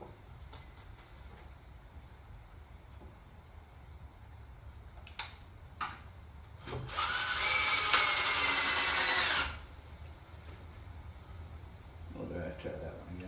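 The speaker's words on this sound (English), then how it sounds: "I need to learn how to use a drill" Power drill running in one sustained burst of about three seconds on a home wood project, preceded by a few short taps and clicks, loud and close, with quiet room tone around it.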